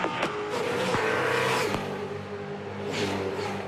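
V8 Supercars race cars on the final lap, engines roaring loudly and steadily with revving passes and a brief whoosh, a continuous dense motor drone throughout.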